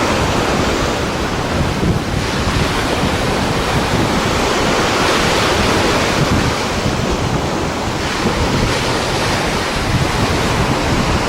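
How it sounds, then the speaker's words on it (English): Wind gusts across the microphone and waves wash against a sailing boat out in the breeze, a loud, dense, continuous rush with no talk over it. "Just sailing in the breeze."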